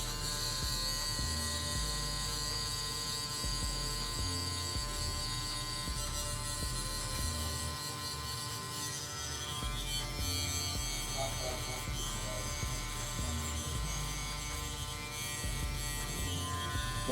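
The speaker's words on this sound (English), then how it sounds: "Let the clipper do the work for you." An electric hair clipper buzzing steadily and close while cutting hair during a fade blend, a continuous motor hum with small shifts in pitch as it moves, with no talking.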